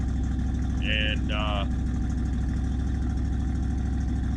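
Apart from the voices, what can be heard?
1976 Ford Ranchero engine idling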